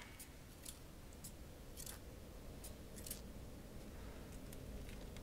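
Scissors being picked up in the video game Resident Evil Village produce a series of quiet, crisp metallic snips and clicks scattered over a steady low background hiss.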